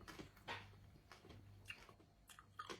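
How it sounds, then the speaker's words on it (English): Close, quiet chewing of a cooked sago worm, with soft wet bites and crunchy mouth noises recurring at irregular moments across a few seconds. "when I chew it"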